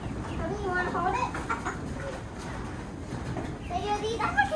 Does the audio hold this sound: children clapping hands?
no